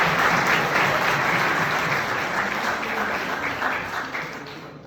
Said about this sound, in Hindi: इस पर ताली तो बजाइए।